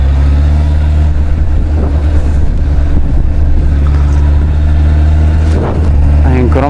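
A 100 hp motorcycle ridden by a first-time rider accelerates with a loud, close engine roar that shifts pitch as it changes gear, while a voice talks over it.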